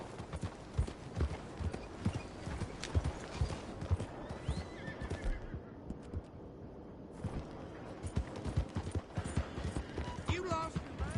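Horse hooves clip-clop steadily while a horse whinnies in Red Dead Redemption 2, the hoofbeats dense and close throughout, with brief speech mixed in.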